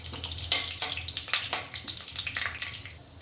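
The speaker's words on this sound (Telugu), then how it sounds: "అందులో ఆవాలు శనగబాళ్ళు వేసి కొంచెం సేపు ఫ్రై చేసుకోవాలి" Mustard seeds and chana dal frying in hot oil for a potato fry, giving a steady close sizzle with scattered sharp pops and crackles throughout.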